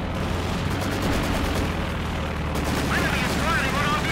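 Maxim machine gun fire from a pinned crew in the World War II strategy game Company of Heroes 2, a steady rattle of gunfire and distant explosions filling the battle mix, with commentary talking over it throughout.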